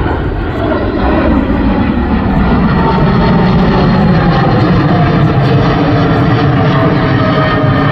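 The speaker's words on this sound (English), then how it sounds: "As our United 777 flies overhead, notice how quiet this jetliner is." A United Airlines Boeing 777 jetliner flies overhead at the EAA AirVenture 2022 airshow in Oshkosh, with a steady, loud, broadband engine roar that holds constant throughout.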